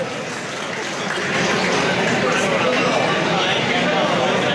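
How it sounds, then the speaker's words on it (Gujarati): Steady applause from an audience at a Kheda district police get-together honouring students, broad and continuous, swelling louder after the first second and holding evenly to the end. "કેવલને આપણે તાળીઓથી વધાવીશું"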